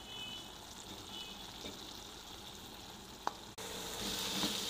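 Tomatoes sizzle steadily in hot oil in a karahi for beef keema, a constant crackling fry with a brief clink and a louder burst of sizzling near the end.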